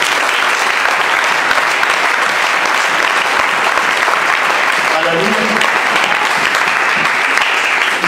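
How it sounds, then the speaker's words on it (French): A church congregation breaks into sustained, dense applause that carries on steadily throughout, loud and enveloping with a crowd feel. "Est-ce que tu peux acclamer pour toi?"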